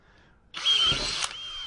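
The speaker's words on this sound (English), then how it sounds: "we'll take the larger drill bit and open up each one of these holes to allow better flow." A power drill with a larger bit bores out holes in an ROV frame, with a sharp whine that starts abruptly, holds for about a second with a brief bite, then eases back to a lower spin.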